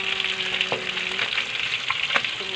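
Upo, tomato and chicken cooking in a pot give off a low steady sizzle and bubbling, with a few brief clinks of a utensil against the pot.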